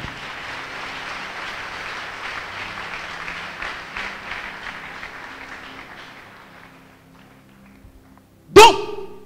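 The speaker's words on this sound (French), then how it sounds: "Acclamez le Seigneur pour ça." A church congregation applauds in a steady crowd wash that fades out over several seconds, then one sharp close thump near the end.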